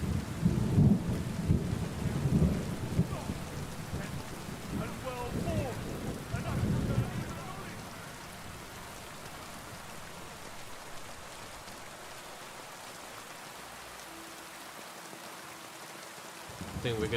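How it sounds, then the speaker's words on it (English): Thunder and steady rain roll through a medieval video game, loud rumbling and rain noise for the first eight seconds, then fading to a quieter hiss of rainfall with a faint tone near the end. "So that thunderstorm ain't looking too good."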